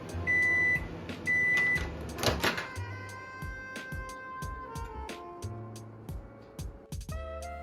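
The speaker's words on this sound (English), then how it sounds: "we're going to pop it into the microwave for a few seconds so it can loosen up" Microwave keypad beeps, then the oven hums steadily with a low whir and faint rattling, ending in a brief beep.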